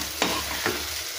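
Masala spices sizzling as they are stirred and sautéed in a pan for chicken curry, a steady frying hiss broken by two short scraping stirs, close and clear.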